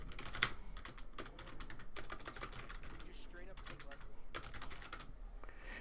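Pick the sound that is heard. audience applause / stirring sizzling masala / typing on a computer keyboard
typing on a computer keyboard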